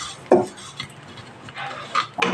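Rice frying in a pan is stirred with a metal spoon, giving a few sparse scrapes and clinks against the pan in a quiet room.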